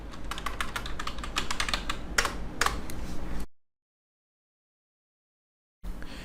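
A command is typed on a computer keyboard to connect to an Oracle database through SQL*Plus: a quick, close run of key clicks lasting a few seconds, then silence before a faint background hum returns.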